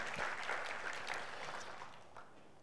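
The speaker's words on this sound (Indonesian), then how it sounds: "Berikan tepuk tangan buat Tuhan Yesus" A church congregation claps during a sermon, a short, fairly quiet burst of applause that tapers off within a few seconds.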